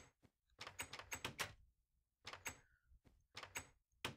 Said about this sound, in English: Close all the damn doors because it bugs me.